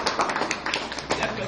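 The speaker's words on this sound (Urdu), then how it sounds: "تالیاں بجاتے اس بچی کے لیے" Scattered, thin applause from a small training-session audience for a young girl, a handful of people clapping unevenly for about a second and a half with light crowd murmur underneath.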